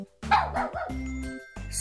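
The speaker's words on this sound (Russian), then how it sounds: "Собака." A dog gives a couple of quick, close barks with a yip-like edge, short and alone.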